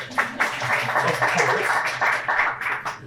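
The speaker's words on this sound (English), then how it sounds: "we can give them a round of applause" An audience applauds at a school Student of the Month ceremony, a steady wash of mid-sized clapping that carries through the whole stretch with no one speaking over it.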